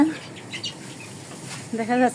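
Young chickens on a rooftop give short clucks and chirps, one near the start and a clearer burst of calls toward the end, heard close over faint background noise.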